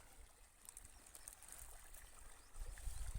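Irrigation water pours from a pipe fed from a river about 2,500 feet away into a cotton field, a steady close trickling rush that swells louder near the end.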